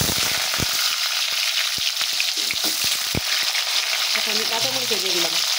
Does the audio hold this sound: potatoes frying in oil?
yes